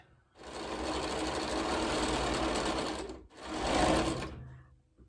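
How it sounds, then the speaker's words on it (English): A sewing machine with a quarter-inch foot stitches quilt block pieces in two bursts, a long steady whirring run, a brief pause, then a shorter run that winds down, close and alone. "So I'm going to sew this on, and you need to make 4 of these."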